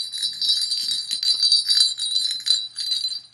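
Small bell sewn onto a child's sheep Halloween jumpsuit jangles and tinkles continuously, close and bright, with irregular shaking rhythm and no talking.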